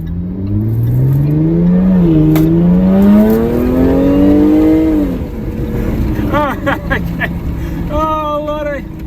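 A Jaguar F-Type accelerating hard, its engine note climbing strongly and loudly from inside the car, then easing off into lower revving with quick throttle blips, while an excited voice talks over it.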